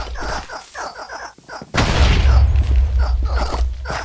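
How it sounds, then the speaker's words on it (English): Explosions in a clay soldiers battle video game: a choppy stretch of clattering bursts, then a sudden loud booming blast that rolls on as a dense rumbling roar with crackling debris. "They are setting their opponents on fire, and explosions are going off."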